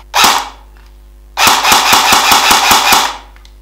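An inexpensive AliExpress GG upgrade electric motor runs in an airsoft gun. One short burst is followed by a sustained rapid mechanical rattle of evenly spaced cycling clicks, loud and close, with no voices.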